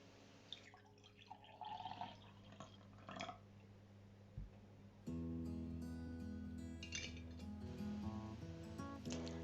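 Water is poured into separate containers: trickling and dripping at first, then a steadier pouring stream with a rising hollow tone as a vessel fills, close and fairly quiet with no speech.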